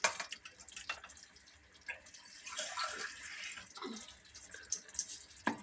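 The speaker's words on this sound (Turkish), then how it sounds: "ben bir çay bardağından su koymak istiyorum" Water is poured from a tea glass into a cooking pot of carrot and leek stew, heard as a soft splashing trickle up close, with a few drips and faint clatter around it.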